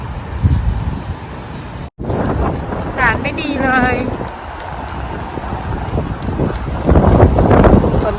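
Strong wind buffets the microphone in gusts during a rainstorm, with a stormy outdoor rush and a person speaking over it.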